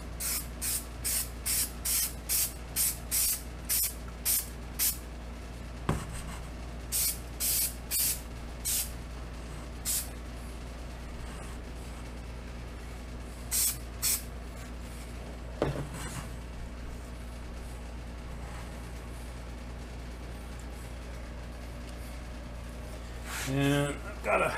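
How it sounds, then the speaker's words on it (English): Repeated short bursts of multi-purpose aerosol adhesive hiss from a spray can during a 1947 MG TC rebuild, in quick rhythmic pulses with pauses, a couple of clunks, and talking near the end. "So first we're going to spray some multi-purpose adhesive on there, get it a little sticky."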